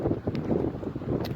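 Gusting wind buffets the microphone on the snowy summit of Bear Mountain, South Dakota, a close low rumbling roar that rises and falls, with no talking.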